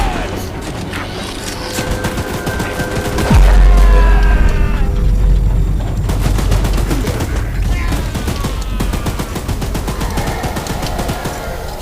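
Rapid gunfire from the mobile video game Choo-Choo Charles rattles in dense bursts alongside heavy booms, a deep impact near the start, and whining mechanical tones, all loud and close.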